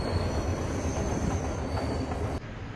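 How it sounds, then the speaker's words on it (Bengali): A train rolls past on the railway line right in front of a hillside resort in Sri Lanka, a steady, fairly faint rumble of wheels with a thin high squeal running through it and no voices. "আমাদের এই রিসর্টের সামনে দিয়েই ট্রেন লাইন, যে ট্রেন ধরে আসছিলাম এই যে সেই ট্রেন এখন যাচ্ছে।"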